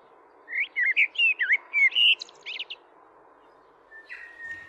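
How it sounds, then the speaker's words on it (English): A bellbird sings in New Zealand bush, a bright run of ringing, chiming notes followed by a softer, thinner phrase, heard alone against a quiet low hiss. "Not to be outdone, the counterpoint came from a bellbird."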